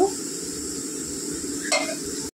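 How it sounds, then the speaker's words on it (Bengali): Steady sizzling of onions frying in a pan, close and continuous, with a brief clatter of a utensil near the end. "বন্ধু পেঁয়াজ কিন্তু দেখো ভাজা হয়ে এসছে"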